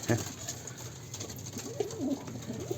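An Arab pigeon coos softly in a few rolling, low calls close by, against a light background hiss.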